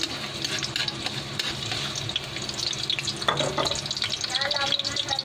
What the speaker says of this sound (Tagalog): Lagyan na natin ng mantika para igisa yung bawang, sibuyas, kamatis. Ngayon, ilagay na natin yung bawang.